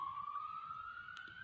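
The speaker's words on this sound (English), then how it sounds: "we have the police sirens actually going outside as I'm making this video" A police car siren wails outside as it passes. It is a faint, distant, gradually rising tone over a low background rumble, and no one speaks.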